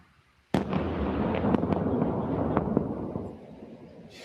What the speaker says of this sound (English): In Kyiv, explosions could be heard as strikes hit a number of apartment buildings